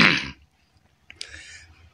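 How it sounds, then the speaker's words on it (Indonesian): A single short, harsh cough up close, followed by quiet and a faint clatter. "Aduh, maaf batuk."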